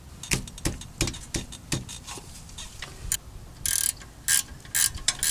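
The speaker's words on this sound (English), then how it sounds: "Now first I'm going to take out these caliper bolts here that are going into the slide pin, the upper and lower, and these are a 13 millimeter." A ratchet turns out the 13 mm brake caliper bolts on a 2013 Volkswagen Passat, giving close, crisp bursts of rapid clicking in uneven spurts.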